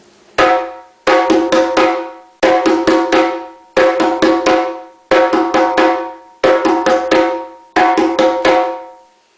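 Sharp, ringing djembe slaps alternate between right and left hands in a steady pattern of short bursts, each group of quick strokes separated by brief pauses, loud and up close.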